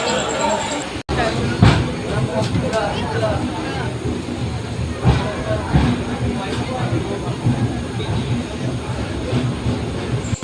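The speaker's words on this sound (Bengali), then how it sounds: "ট্রেন ঢুকে গেছে এখন ভুবনেশ্বরে" Dhauli Express 12821, running from Howrah to Puri, pulls into Bhubaneswar station, heard from inside a coach: a steady rolling rumble with wheel clatter and a few sharper knocks, under a murmur of passenger voices.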